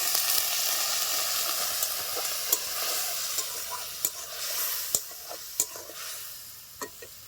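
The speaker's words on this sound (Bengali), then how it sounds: "একটু জল দিয়ে মশলাটাকে আমি ভালো করে কষিয়ে নেব।" Spice masala of turmeric, cumin, coriander and red chilli powder frying with a little water in a pan, a steady soft sizzle broken by intermittent clinks and scrapes of stirring, no voices.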